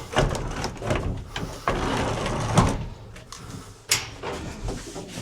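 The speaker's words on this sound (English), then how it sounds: "What I did is I closed this door." A pigeon shed door pulled shut and a bolt slid along, giving several close wooden knocks, rattles and scrapes in quick succession, fairly loud.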